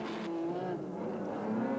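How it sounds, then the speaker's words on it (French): A BMW Z3 rally car driven hard on a stage of the 1999 Lyon-Charbonnières rally, its engine a steady loud drone with a brief tire-scrub hiss near the start, no voices. "Début de la deuxième journée avec la BMW Z3 terriblement efficace lors des départs aux mains expertes de Vatanen"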